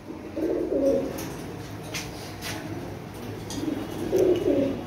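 Oman Teddy pigeons in a loft make low, throaty coos in two clear bursts, one at the start and one near the end, with quieter rustling and soft calls in between.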